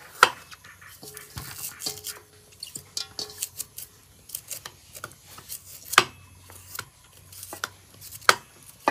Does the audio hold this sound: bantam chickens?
no